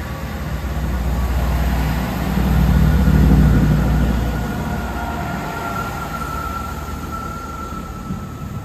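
A diesel train engine at a station in Amersham revs up close, its low rumble swelling to a peak and then easing back to a steady drone.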